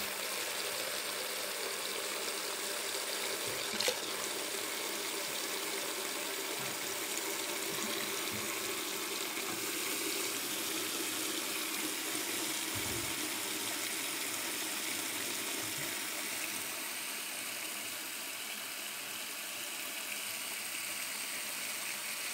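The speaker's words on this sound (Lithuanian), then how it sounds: "Paleisiu vandenį, neturiu kuo užkimšti kriauklę" Tap water runs steadily into a sink with no plug in it while a sink siphon is being fitted, a continuous even gush that lasts throughout with no talking.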